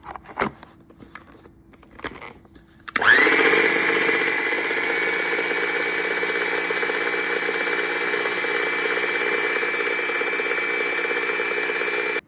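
A mixer grinder blending homemade cream cheese starts up after a few quiet seconds and runs steadily at high speed, a loud continuous whirring drone with no talk.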